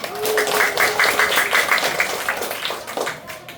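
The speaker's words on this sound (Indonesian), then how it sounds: "Tepuk tangan dulu ya." Children applauding in a classroom, a dense run of rapid hand claps close by for a few seconds, tapering off toward the end.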